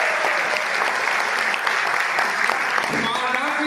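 An audience at a Hindi comic poetry recital claps steadily and loudly, a dense burst of applause with voices mixed in underneath.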